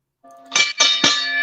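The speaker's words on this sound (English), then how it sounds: "go ahead and ring that bell" A bell is struck three times in quick succession, each a bright metallic clang followed by a sustained ringing tone that lingers and rings on after the last hit.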